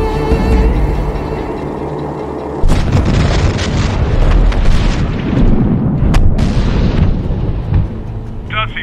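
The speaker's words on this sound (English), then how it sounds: "We have airstrike inbound." Airstrike explosions in the war video game Medal of Honor Warfighter: a sustained barrage of loud, rumbling booms and blasts follows a sudden heavy impact, with dense continuous debris noise and some radio chatter over it.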